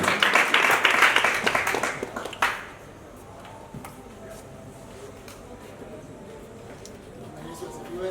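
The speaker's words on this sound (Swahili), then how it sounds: "Situpigie makofi mazuri jamani" An audience at a church gathering claps and applauds loudly for about two and a half seconds, then the clapping cuts off and quiet room noise follows.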